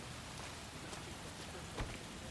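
Steady rain in the video game L.A. Noire hisses continuously, with a brief low thump partway through; no voices, a dense even wash of falling drops.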